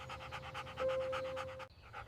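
A dog pants close by in a quick, steady rhythm of breathy puffs, with a faint whine partway through before the panting carries on.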